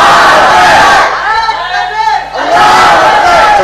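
A large crowd at a religious gathering of mothers and sisters roars a chanted slogan in unison. The loud shouting dips briefly in the middle, then surges back.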